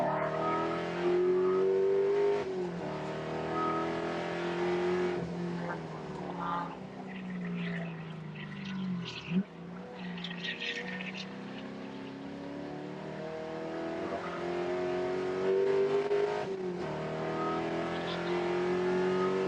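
Spec Corvette race cars at Auto Club Speedway scream past with rising and falling engine revs and gear changes, several cars close together passing near and then fading, a continuous loud motorsport roar.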